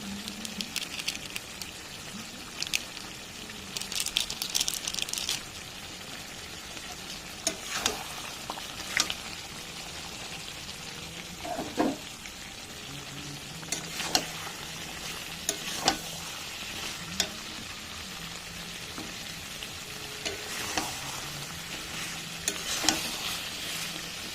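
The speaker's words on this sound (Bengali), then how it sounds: "আমার মাংসটা ভালো মতন কষানো হয়ে গেছে, মাংসের প্যাট থেকে তেল ছাড়তে শুরু করেছে" Meat with meat masala fries and sizzles steadily in a pan for roti curry, oil separating as it browns, with periodic scraping and stirring clatters over the constant hiss; no talking.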